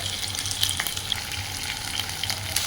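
Onions sautéing with ginger garlic paste in a pan crackle in a bright, continuous sizzle with light stirring clicks, close and alone.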